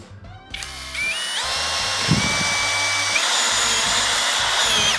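A NANWEI 16.8V cordless drill driver, torque set to 17, drives a screw into 1.5 mm steel box tubing: a close, loud motor whine that climbs in pitch, with a brief clunk partway and steady running through to a sudden stop.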